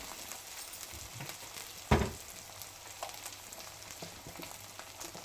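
Hot oil sizzling and crackling in a steel pan as food fries, with a sharp burst of spattering near the middle, then steady popping close by.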